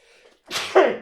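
A single sneeze, close and loud: a quiet breathy intake followed by a sharp explosive burst that trails off within a second.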